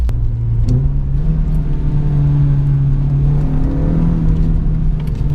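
A 2005 Renault Clio 182 driven on a track, its engine holding a steady droning note with a brief shift in pitch early on, loud and close with road noise underneath.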